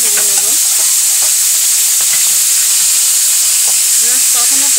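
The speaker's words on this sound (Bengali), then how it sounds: "সমস্ত মাছগুলো ভেজে নেব।" Pieces of hilsa fish fry in hot oil in a kadai on a wood stove with a steady, loud sizzle throughout, while a faint voice murmurs briefly near the start and end.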